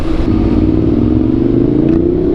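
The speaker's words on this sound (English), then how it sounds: "Man, that bike sounds so good." A Ducati motorcycle engine revving loud and close, a steady rumbling drone that climbs slightly in pitch over about two seconds, with no voices.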